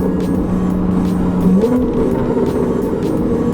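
A TechArt-tuned Porsche 911 GTS (991) with a PDK gearbox downshifts, its engine note jumping in pitch partway through while faint sharp exhaust crackles snap over a steady, loud engine drone.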